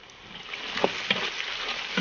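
Chili, star anise, cinnamon bark, bay leaves and other spices being stir-fried in a wok, a close, steady sizzle with a couple of brief scraping knocks from the spatula.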